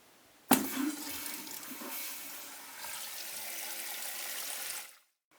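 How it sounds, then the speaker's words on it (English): A newly installed Jacuzzi toilet filling with water: a sudden rush as the supply is turned on, followed by a steady hiss of water refilling the tank that cuts off abruptly near the end. "At this point, we'll turn the water on and check for leaks."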